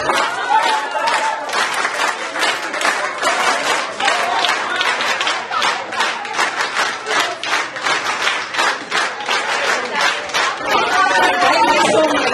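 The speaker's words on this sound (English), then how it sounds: "clap, parents." Parents at a children's rhyme-time session clap together in a steady, loud rhythmic beat, the crowd's hands striking in unison with shouts and chatter mixed in throughout.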